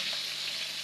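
Koi fish frying in hot oil while being flipped in the pan, a bright steady sizzle, close and continuous, with no talk.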